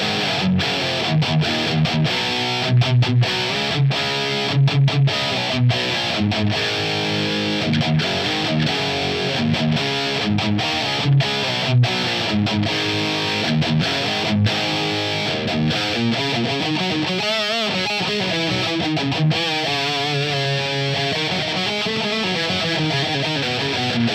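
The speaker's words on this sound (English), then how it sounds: "let's get a feel of how this delay affects the sound" An electric guitar played through a distortion channel and a delay pedal, with sustained overdriven chords and picked phrases whose echoes trail and smear into one another, loud and continuous.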